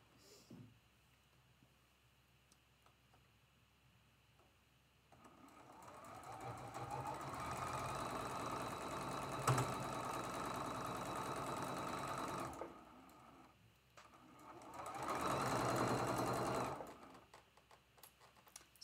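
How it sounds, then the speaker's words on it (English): A sewing machine runs in two bursts, a long steady whir followed by a short pause and a second shorter run, close and fairly quiet. "What kind of sewing machine do you have?"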